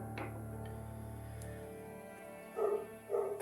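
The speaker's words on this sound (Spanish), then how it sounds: "Perdón esos ladridos." A dog barks twice in the distance, short sharp barks near the end after a steady hum in the room.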